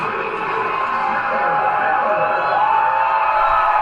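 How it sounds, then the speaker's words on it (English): A large crowd at a football game roars steadily from a distance, the cheering swelling slightly over the span and a loudspeaker-like voice mixed into the wash of noise. "Well, you can hear the crowd"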